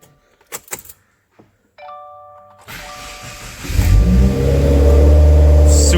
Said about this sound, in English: so I'm just gonna start her up and check the oil level